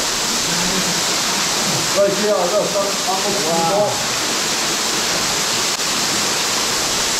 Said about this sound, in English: That's a lot of water coming down.